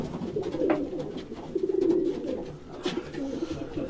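Pigeons of the Bateray breed from Sialkot coo in soft, repeated low throaty calls, close and continuous for a few seconds.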